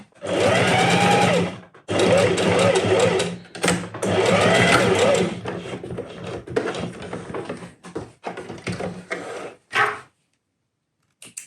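A pedal-operated sewing machine stitches bias binding for halterneck straps in loud sustained whirring runs, three long bursts followed by shorter stop-start stitches and a brief pause near the end.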